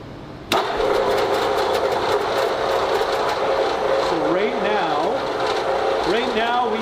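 An AC induction motor switches on abruptly, then settles into a loud, steady electrical hum with a whining tone that holds unchanged; brief voice-like wavering tones appear near the end.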